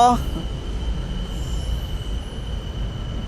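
A BTS Green Line elevated train in Bangkok rolls along with a steady low rumble and a faint high whine, heard from close by without talking.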